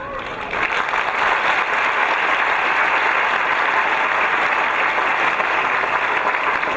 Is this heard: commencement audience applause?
yes